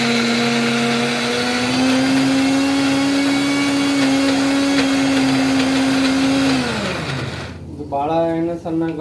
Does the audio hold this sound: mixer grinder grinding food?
yes